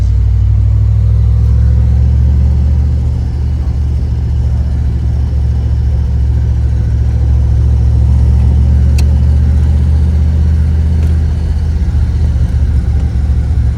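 A 1963 Chevrolet Corvette convertible with a 327ci 340hp V8 and four-speed drives along, its deep, steady engine rumble loud and continuous throughout.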